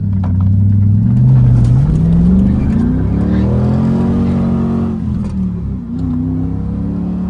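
A 1999 Chevrolet Camaro SS with 134,000 km on it launches hard from a corner, its V8 engine revving loud and rising steadily in pitch through the gears, close and continuous with no talking.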